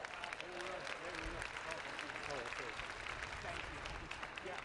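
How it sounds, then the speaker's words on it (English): An audience applauds for officials at the 2019 National Senior Games, a steady wash of clapping from a crowd, moderately distant and faint, with some voices mixed in. "let's give all of them a round of applause."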